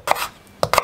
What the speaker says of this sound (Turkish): Şu patatesleri elma dilim şeklinde doğrayıp bir suya bırakayım.